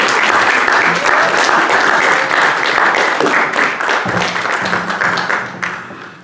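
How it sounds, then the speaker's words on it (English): A comedy storytelling crowd breaks into a big round of applause, loud and dense from the start, with a few faint voices mixed in, gradually tapering off toward the end. "Let's have another big round of applause for Gretchen."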